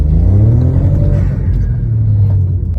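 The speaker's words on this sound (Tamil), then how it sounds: "நான் ஜஸ்ட் ஒரு லைட்டாக ரேவ் பண்ணுறேன், பாருங்கள் இதோட அக்ரெசிவ்னஸ் எப்படி இருக்குங்கிறது" A stage 2 tuned VW Polo engine revs briefly and lightly, a loud, close rumble that rises in pitch and then settles back to a steady low drone.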